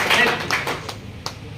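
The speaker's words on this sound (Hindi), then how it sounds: "एक जोरदार ताली," An audience at a business and income plan seminar claps in a short, fairly loud round, with crisp individual claps that thin out toward the end.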